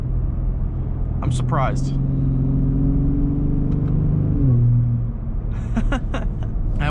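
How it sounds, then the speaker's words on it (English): A 2022 Ford F-150 Raptor's V6 engine rumbles steadily with a deep exhaust drone echoing in a tunnel, shifting pitch briefly as it changes speed, while a person speaks a few words over it. "We just went through a tunnel and the exhaust echoed."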